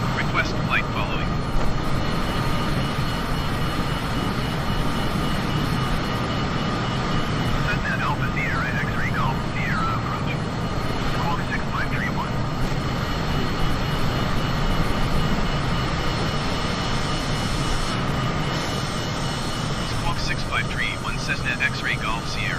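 Cessna C25C jet aircraft in Microsoft Flight Simulator 2020 near LaGuardia, a constant loud jet engine roar and whine throughout, with faint radio chatter underneath.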